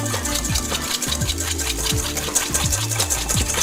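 Three egg yolks are beaten hard in a bowl, probably with an electric mixer, giving a steady loud whirring drone with rhythmic scraping and pitch wobbles as the beaters move around the bowl.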